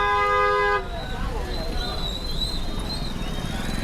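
A car horn gives one sustained blast in a traffic jam, then the steady murmur of stalled traffic carries on with faint further toots in the distance.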